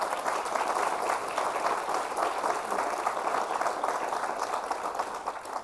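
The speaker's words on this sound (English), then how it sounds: "Let's give them a round of applause." A crowd applauds steadily at a veterans center groundbreaking ceremony, dense clapping sustained at an even level from start to finish with no talking over it.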